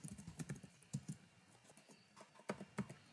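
Fingers tap out code on a computer keyboard, quiet clustered keystrokes in short irregular bursts with brief pauses between them.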